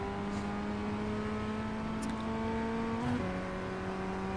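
Ray FF1600 single-seater race car engine in iRacing at Snetterton 200 Circuit, a steady droning whine accelerating, then a brief dip and rise in pitch as it shifts up a gear, heard alone.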